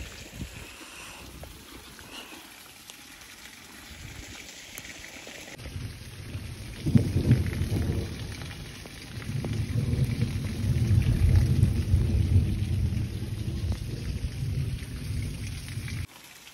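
Heavy rain in a thunderstorm: a steady wash of rainfall that swells partway through, with a deep rumble of thunder rolling in and the downpour growing louder toward the end.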